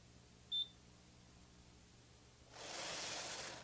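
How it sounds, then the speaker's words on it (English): A Brother 930/940 knitting machine's buzzer gives a single short, high electronic beep once early, then after a pause a steady soft hiss of rustling noise starts and continues. "When the buzzer sounds 1 row before finishing the pattern"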